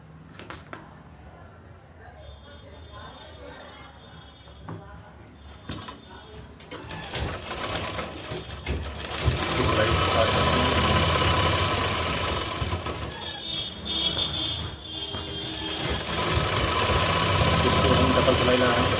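An electric sewing machine stitching fabric for a suit is quiet at first, then whirs loudly and steadily through the second half, pausing briefly once, while a voice talks alongside.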